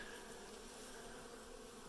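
Honey bees swarm around an exposed hive during a cutout of brood comb in Dorrance, Kansas, their steady, faint buzzing a continuous droning hum with no breaks.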